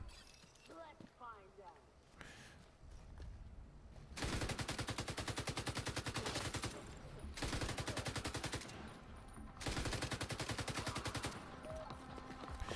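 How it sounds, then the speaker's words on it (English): Loud, rapid crackling bursts of video-game explosion effects sound when an enemy dies, coming in several long clusters with short gaps, under and between excited talk. "when it dies, it's going to do a giant explosion of red, white, and blue"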